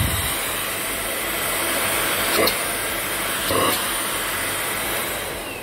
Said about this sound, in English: I never expected a mini vacuum cleaner can have this much strength.